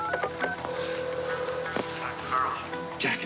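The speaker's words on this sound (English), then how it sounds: "could you just get this Danley guy on the phone for me?" A telephone number is dialed, a short run of tonal beeps at uneven intervals amid faint background noise and brief voice-like sounds, close and moderately loud.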